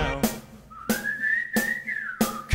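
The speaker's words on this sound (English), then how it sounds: "Come on, everybody, and whistle a tune right now." A whistled tune carries a melody over a song with a steady beat, rising and holding through a smooth phrase while a rhythmic thump repeats roughly every two-thirds of a second.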